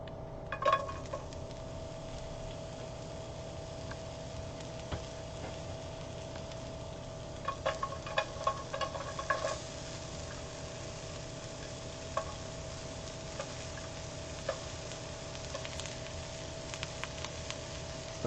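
Shallots frying in a pan, a low steady sizzle running throughout with occasional clicks and stirring taps, fairly faint and with no talking.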